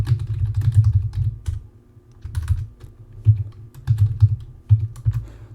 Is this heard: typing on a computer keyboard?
yes